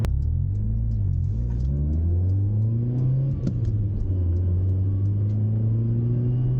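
A Nissan Micra with a new GizFab exhaust revs and accelerates steadily, a deep rumbling exhaust note rising in pitch, loud and close throughout.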